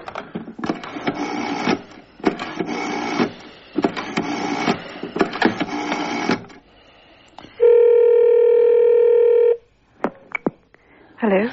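An old telephone is dialled: several bursts of clicking, whirring rotary dial pulses, then a long steady tone and a few short clicks, close and clear.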